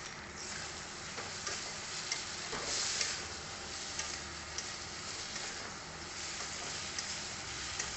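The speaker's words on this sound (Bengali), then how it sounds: "জিরের গুঁড়ো ধনের গুঁড়ো দিয়ে কষে নিয়েছি" Cumin and coriander powder stir-frying in a pan make a continuous soft sizzle with faint scraping of a spatula, fairly quiet and without talk.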